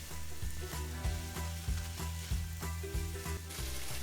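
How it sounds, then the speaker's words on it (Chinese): Kung Pao chicken stir-fried in a wok with ginger, garlic and chillies: steady close sizzling with repeated clanks and scrapes of the spatula tossing the pieces, no talking. "一起来翻炒一下。"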